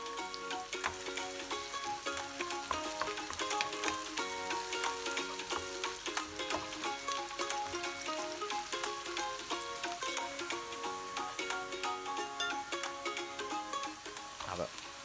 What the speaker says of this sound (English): We will add the onions and the garlic in a cooking oil, and then we will fry them for a while and let them get a brown color.